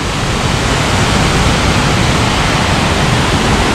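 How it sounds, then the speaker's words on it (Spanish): Waterfall called La Chorrera in the mountains of Nariño, a steady, loud broadband roar of falling water that stays even and unbroken throughout, with no voices. "¡Otra cascada más! ¡Re linda!"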